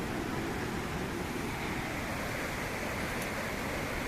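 Waterfall near Bhavali Dam in Igatpuri, Maharashtra, heard as a steady, dense roar of falling water that fills the whole clip without a break.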